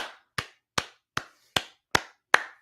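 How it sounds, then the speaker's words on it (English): Six sharp, evenly spaced hand claps ring out alone, close and crisp, each about 0.4 seconds apart, a small round of applause from a single person at a live-stream desk. "Round of applause"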